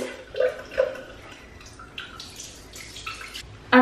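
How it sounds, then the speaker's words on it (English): Water splashes and drips at a bathroom sink while a face is rinsed, a few soft close splashes and trickles ending in a sharper splash. "And then rinse."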